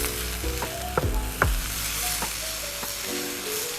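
Beef and carrots for black pepper noodles sizzle in a hot pan, a steady loud fry broken by sharp clanks of a utensil stirring against the metal every second or so, with no talking.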